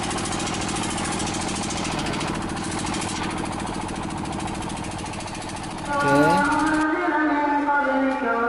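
The motor of a ketek boat on a ride back toward Ampera in Palembang runs loud and close with a rough, chugging drone, then shifts in pitch and tone near the end.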